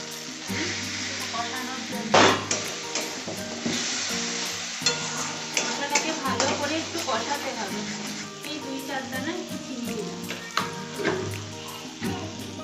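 Spices for a Bengali mutton curry, including coriander powder and Kashmiri red chilli powder, sizzle and fry in a pan while a spoon stirs them, with steady frying hiss and scraping clatter throughout.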